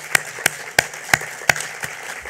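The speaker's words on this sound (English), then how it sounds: "Let's give them a round of applause." A few isolated claps ring out in a hall at a university symposium, about six crisp, evenly spaced claps that are close and fairly loud, with no crowd swell behind them.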